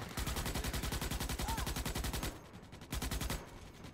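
Rapid automatic gunfire in Starship Troopers: Extermination rattles in long, fast, evenly spaced bursts, loud and close, with a brief pause before another short burst.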